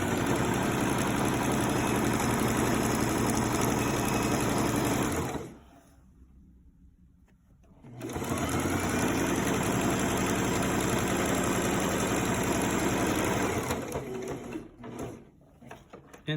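A sewing machine runs steadily while stitching a shirt collar seam, a continuous close mechanical whir that stops for about two seconds, resumes, then breaks into short bursts near the end.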